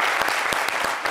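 A studio audience on a weekend game show claps for a contestant, a short, close burst of applause with a few sharp individual claps standing out.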